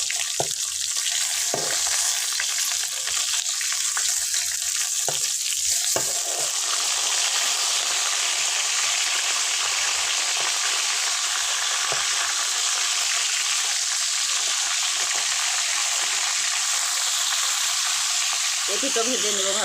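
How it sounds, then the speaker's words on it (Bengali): Pieces of silver carp fry in hot oil in a pan and are turned over, giving a close, continuous bright sizzle with a few bumps and scrapes from the turning, steady throughout. "মাছগুলোকে উলট পালট করে ভালো করে ভেজে নেব।"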